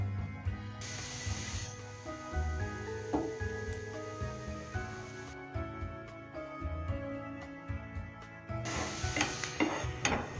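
Chopped capsicum and cabbage get stirred in a pan for cabbage Manchurian, with a low, uneven scraping and clatter and brief bursts of hissing sizzle near the start and end. Nobody talks.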